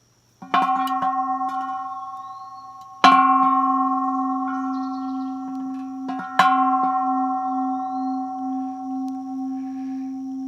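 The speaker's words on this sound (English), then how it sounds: "we'll give a little gong from our bell this morning." A bell outdoors in the woods is struck three times at a slow, uneven pace, each ring loud and clear with a long sustained tone that gradually decays between strikes.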